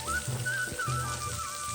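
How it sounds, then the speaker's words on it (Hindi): Waterfall in Nali Valley, Azad Kashmir, giving a steady, close rush of falling water with a thin whistling tone drifting over it, with no voices. "सनसनाहट देखें जी, पानी का शोर देखें।"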